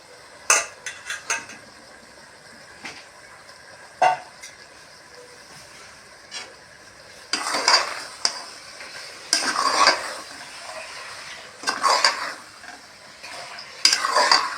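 Half a kilo of chicken stirred and fried in a pot for seeraga samba chicken biryani: spoon scrapes and clatters against the metal in bursts, with a steady sizzle swelling between them, close and fairly loud, no voices.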